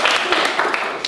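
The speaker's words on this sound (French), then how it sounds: "applaudissements" Applause from an audience at a French game-show-style event, a dense continuous patter of many hands clapping at steady loudness throughout, with no voices on top.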